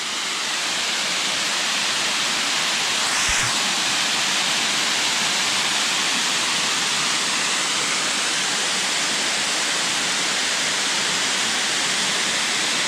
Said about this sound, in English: here's the other fall, the Huron Fall